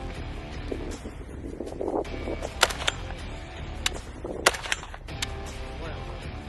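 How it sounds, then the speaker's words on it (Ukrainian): A few sharp, loud rifle shots ring out outdoors during border guard training, two standing out strongly, over steady wind and background rumble. "Тобто в мене зараз буде постріл."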